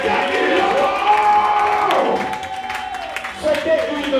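A church congregation at worship cheers and shouts in acclamation, a loud crowd of overlapping voices and whoops with scattered clapping that dips briefly and then surges again.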